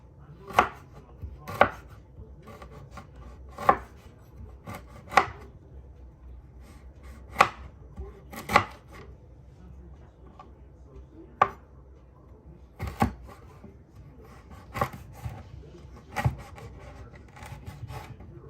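A knife slices through fresh ginger on a cutting board, about a dozen sharp, separate chops spaced irregularly, close and fairly quiet, with no talking.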